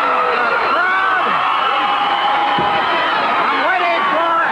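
A Stampede Wrestling TV crowd from 1985 roars and cheers loudly and continuously, with whoops and shouts rising above the din and a commentator talking over it.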